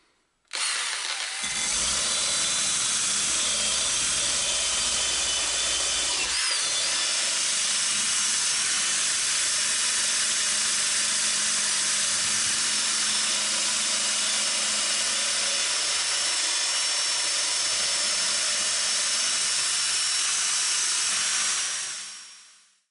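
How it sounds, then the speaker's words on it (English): A power-driven wire wheel scrubs rust from a steel Carver clamp, a loud continuous hissing whir that runs steadily for about twenty seconds, close by, before spinning down. "So I'm going to get some wire wheel stuff set up and we're going to batter in and start cleaning this up."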